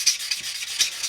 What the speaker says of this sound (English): once you've gone around with your sanding sponge